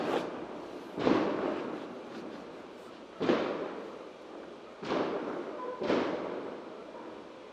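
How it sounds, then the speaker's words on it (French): Four distant booming bursts of fireworks go off outside at irregular intervals, each a sharp thud trailing into a fading rumble. "je crois que c'est des feux d'artifice"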